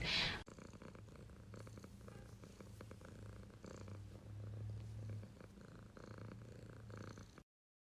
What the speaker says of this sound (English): she like comes on me and starts purring